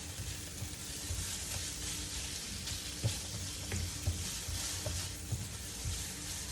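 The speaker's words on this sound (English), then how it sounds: "You stir fry" Ground beef with basil and hot pepper stir-frying in a pan, a steady broad sizzle with occasional soft scrapes and clicks of the utensil, moderately close and with no talking.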